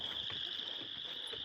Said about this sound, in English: They're frogs.